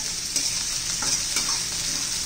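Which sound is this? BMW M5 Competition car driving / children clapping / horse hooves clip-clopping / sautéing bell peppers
sautéing bell peppers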